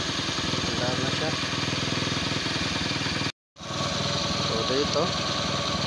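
A Bajaj CT 100 motorcycle engine, just brought back to life after a fault and a new CDI, idles steadily and loudly up close, its running broken by one brief cutout. Someone speaks briefly over it.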